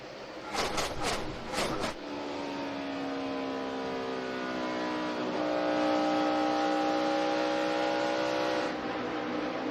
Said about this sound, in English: you really hear the guys roll out and go back to the gas, as Wally said earlier, really fast.